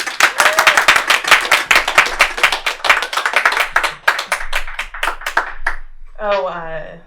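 Close, brisk clapping from a small live comedy audience greets a comedian, a dense run of individual claps lasting about six seconds before a voice begins talking.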